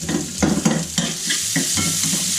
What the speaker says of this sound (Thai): แล้วก็ผัดครับผม